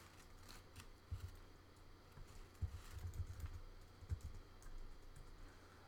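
Faint clicking of a computer keyboard as words are typed into a search field, with short uneven runs of keystrokes over a quiet room hum.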